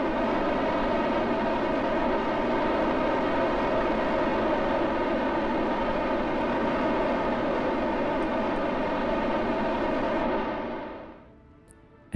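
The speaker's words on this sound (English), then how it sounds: "Just gonna start the engines. Damn, that's loud." Engines of an SSTO spaceplane in the Kerbal Space Program video game roar steadily and loudly for about eleven seconds, a dense, droning rumble with no voices, before cutting off abruptly near the end.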